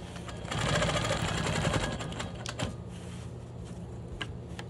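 A home sewing machine stitches steadily up close, quilting a star quilt block with a ruler, its needle rattle loudest early on and then easing into softer, uneven bursts with a few sharp taps.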